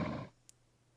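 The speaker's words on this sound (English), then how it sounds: "I think that was the sound of him dying to the acid" A short, low, roaring growl from an enemy dying to acid in Geneforge: Mutagen cuts off after a quarter second, followed by a tiny faint click and near silence.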